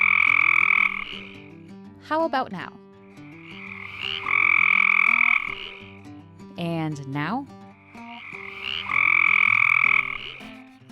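Frogs in a swamp give loud, steady croaking calls in three long bouts, with a person speaking briefly in the gaps between them.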